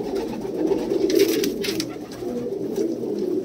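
Punjabi pigeons coo repeatedly at close range, soft throaty calls running through a rustle of wings and movement as the birds are handled and let go.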